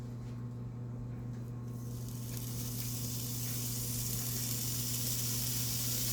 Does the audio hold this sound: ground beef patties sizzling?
yes